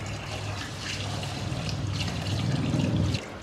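About five kilograms of wheat grains are being washed by hand in water, giving a steady sloshing, trickling wash that continues without a break and swells slightly before stopping abruptly near the end.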